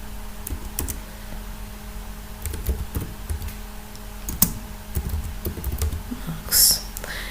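Keys clatter on a computer keyboard as a chart title is typed, a close, light run of irregular taps over a low steady background hum.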